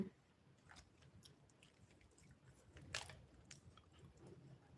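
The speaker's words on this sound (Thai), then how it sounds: "อร่อยดีนะเคี้ยวเพลินดี" Someone chews a snack of almonds, cashews and pumpkin seeds, giving faint close crunching bites over a quiet background, with one sharper crunch near the middle.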